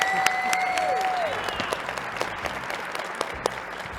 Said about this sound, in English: a big round of applause for Anna Wiseman and Tyler Walton